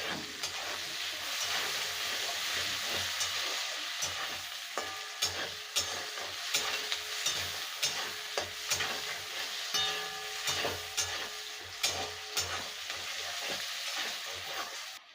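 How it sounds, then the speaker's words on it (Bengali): Onions frying in about a spoonful of ghee for a Bengali patol chingri dish, a steady loud sizzle with repeated sharp scrapes and clinks of stirring throughout, no talk. "পেঁয়াজটা আমি ভাজবো, তখন 1 চামচ মতন ঘি দিয়ে দেবো"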